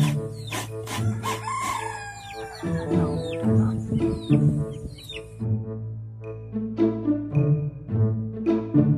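Several chickens cluck and squawk close by, with a rooster crowing partway through, the calls overlapping in a busy, continuous chorus.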